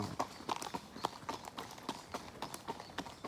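Horse hooves clip-clop in a steady, even rhythm on a gravelly, spongy track, close and clear throughout, with no talking over them.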